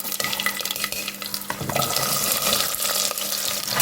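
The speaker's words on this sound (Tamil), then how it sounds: "நல்லா கடுகு சீரகம்லாம் நல்லா பொரியுது பாருங்கள்" Mustard and cumin seeds crackle and pop steadily in hot oil, a busy sizzling texture with sharp little bursts, close up and fairly quiet.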